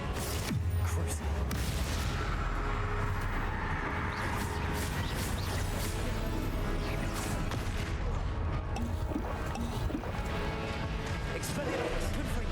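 A Crucio curse cast during Hogwarts Legacy combat, amid a dense, loud mix of blasts, booms and rapid magical impacts, with a voice shouting spell names throughout.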